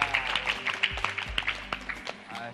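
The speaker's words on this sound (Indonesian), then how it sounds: "Kasih tepuk tangan" Brief, moderately quiet clapping from an audience at a Ramadan event, a few seconds of scattered hand claps mixed with some murmuring and room noise.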